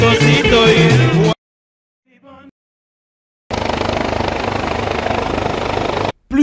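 Loud helicopter engine and rotor roar, cut off by a silent gap with a brief faint noise, then the heavy droning returns.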